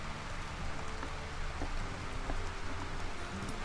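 Rain falling in the colony game Rimworld makes a soft, steady patter with scattered small drop ticks, quiet and continuous throughout.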